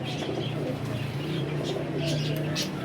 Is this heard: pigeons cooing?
yes